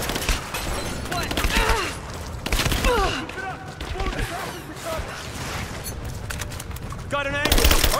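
Rapid bursts of gunfire from a combat firefight in the video game Rise of the Tomb Raider, loud and continuous with overlapping shots, mixed with voices calling out and other game sounds.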